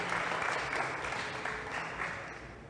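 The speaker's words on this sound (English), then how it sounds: "please give a round of applause to the team" Studio audience at an English debate broadcast breaks into applause, a dense, even patter of clapping that stays strong and gradually tapers off.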